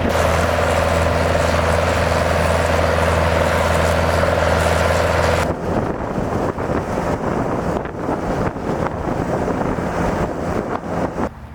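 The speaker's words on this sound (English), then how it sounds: "Concrete trucks fed the curb machine" A concrete truck engine runs with a loud, steady low drone, close by, then cuts to rougher, fluctuating rumble mixed with wind buffeting the microphone; no voices.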